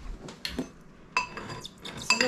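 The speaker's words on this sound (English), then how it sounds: "Mix all this together because I'm trying to make a flour" A utensil stirring a tapioca flour blend in a bowl gives light, irregular clinks and scrapes against the bowl, close by and soft, with no talking.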